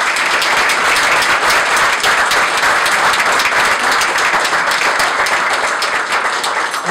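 Loud, sustained audience applause at a poetry award anniversary luncheon, many hands clapping in an even, crowded wash from start to finish.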